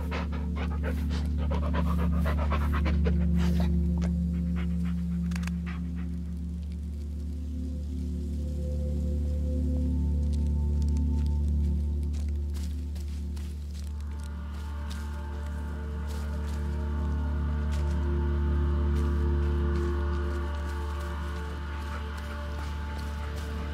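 A dog pants steadily and rhythmically in the video game Blair Witch, close and continuous, with faint rain-like patter and low ambient drone behind it.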